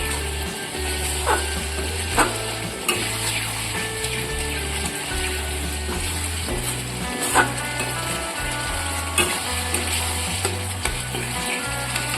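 Spices with salt, turmeric, chili powder and cane jaggery frying in oil for Bengali dhokar dalna, a steady close sizzle with clinking stirring taps throughout, under a continuous musical background.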